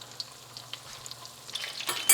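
Chicken wings frying in hot oil, a soft crackling sizzle with scattered pops that grows louder and busier at the end, close by with no voices.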